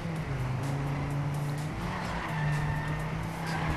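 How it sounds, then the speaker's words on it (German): A car in TrackMania 2 Canyon drifts tightly around a curve, its tires skidding and squealing over a steady engine drone, loud and continuous from start to end with no voices. "Hier Drift, eng um die Kurve rum."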